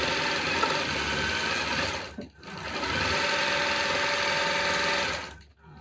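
A Gammill longarm quilting machine stitching a row across a quilt, a loud, steady, close mechanical whir that runs continuously, stops briefly, then resumes at the same even pace.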